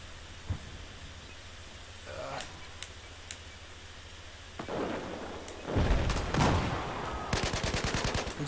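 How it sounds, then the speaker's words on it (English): Gunfire in a large-scale Battlefield-style conquest battle at Hainan Resort: scattered distant shots early, then heavier bursts and rapid automatic fire building toward the end, with voices talking over the battle. "Somebody shooting from Charlie."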